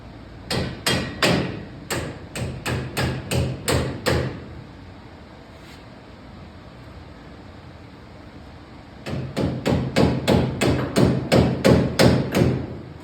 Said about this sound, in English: Go grab a hammer so I could tap that out.